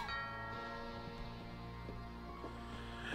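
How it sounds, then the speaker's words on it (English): Doorbell chime in the video game What Remains of Edith Finch, a faint ringing bell-like tone with lingering resonant overtones over quiet ambience. "He breathes like a ding-dong! Doorbell!"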